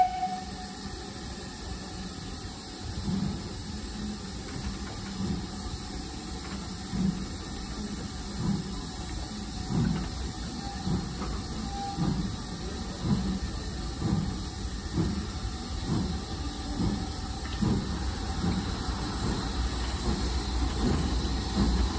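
A steam train on the North Yorkshire Moors Railway pulls away with a steady low rumble and rhythmic chuffing pulses that build over time, with a hissing wash underneath and no voices.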